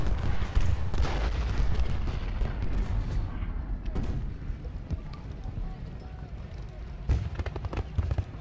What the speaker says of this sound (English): This is a lot of artillery.